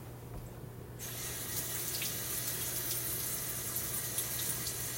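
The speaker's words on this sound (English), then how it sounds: "So I'm going to put some water in here." Tap water pours steadily into a container while a cat skin-care mixture is being prepared, a continuous close hissing splash starting abruptly after a second of quiet and running unbroken to the end.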